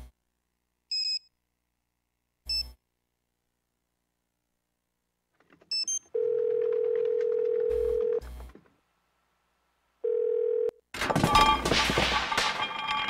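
Telephone tones in the game Nancy Drew: Trail of the Twister: short keypad beeps, then a long steady ringing tone repeated twice, followed by a sudden burst of crashing, clattering noise.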